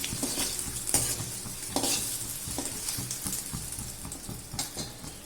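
Eggs stir-fried lightly in masala in a pan on low heat for egg masala curry, steady sizzling with repeated clinks and scrapes of a spoon against the pan, close and without talking.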